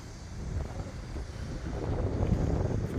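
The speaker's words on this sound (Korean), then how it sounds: "바람이 좀 세게 부네요" Strong seaside wind on a stormy day near a mudflat shore, roaring steadily and buffeting the microphone with a low rumbling rush that builds slightly toward the end.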